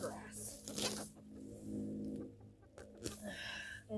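Backyard chickens near a garden cluck softly in the background while a person talks and moves about nearby.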